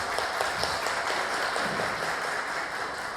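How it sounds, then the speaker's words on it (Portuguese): An audience at a panel event bursts into sustained applause, a dense wash of clapping that stays steady and fairly loud for several seconds. "Palmas para ele, pessoal."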